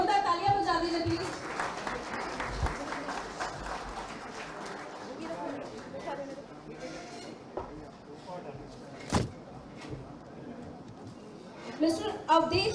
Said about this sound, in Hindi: जोरदार तालियां बजा दीजिए प्लीज